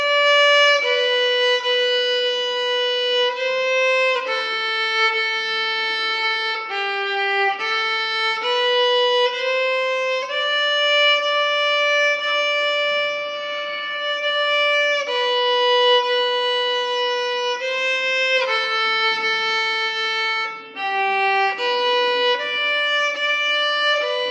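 A solo violin plays the first part of "Lightly Row," a simple melody of clear bowed notes in steady rhythm, close and moderately loud, with no talking.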